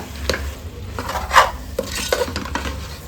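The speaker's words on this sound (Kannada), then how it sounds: "ಈ ಮಸಾಲೆಯೊಂದಿಗೆ ಒಂದು ಮೂರು ನಿಮಿಷ ಫ್ರೈ ಮಾಡ್ಕೊಳ್ಳೋಣ" Masala with dal and sprouted beans fries in oil for a Mangalore cucumber curry, loud metal-on-pan stirring clatters and scrapes close up over a low sizzle, no one speaking.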